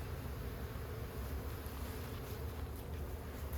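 A honey bee swarm buzzes steadily and loudly during a cutout from an owl house, a dense continuous drone with no voices.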